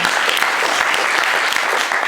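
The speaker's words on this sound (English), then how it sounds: "Round of applause for Diffuse." An audience at the Interaction 14 design conference in Dublin claps for the volunteer team Diffuse, producing a loud, dense and steady patter of many hands close by, with no voices over it.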